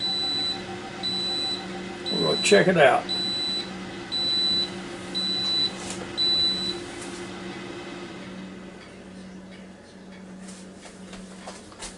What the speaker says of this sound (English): as soon as it stops beeping